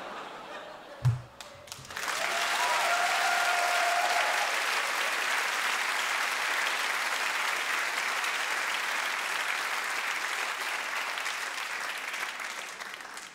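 Comedy-show audience breaks into sustained applause after a comic song, a broad steady wash of clapping that swells after a brief pause and holds loud throughout.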